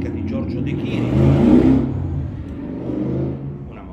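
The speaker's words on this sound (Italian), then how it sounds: "Una moto." A motorcycle engine revs past close by, swelling to a loud peak around the middle and then fading back to a steady hum.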